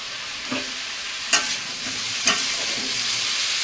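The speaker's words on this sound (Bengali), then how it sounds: "এই দেখো আলু ভাবছি" Potatoes fry in a pan at home with a steady, close hiss of sizzling oil. A few soft knocks and scrapes of stirring rise above it, and no one speaks.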